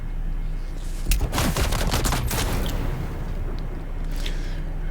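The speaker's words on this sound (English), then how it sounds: "Tossing grenade." Gunfire and a grenade blast in the survival game Dune Awakening: a dense burst of loud overlapping shots and booms around the middle of the clip, over a steady low rumble of game ambience.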